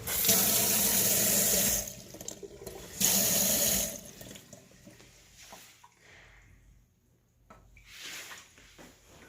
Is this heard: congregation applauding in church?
no